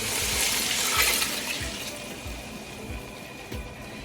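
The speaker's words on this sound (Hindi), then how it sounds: "ये मैंने चिकन की यखनी शामिल की है।" Chicken stock (yakhni) is poured into kofta masala in a cooking pot, making a steady, close splashing pour with soft, rhythmic glugs throughout.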